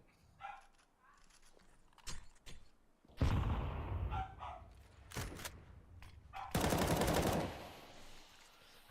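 AK rifle gunfire in a Counter-Strike 2 esports match, heard as several sharp bursts of automatic fire, loudest near the middle and end, with quieter shots and game noise in between.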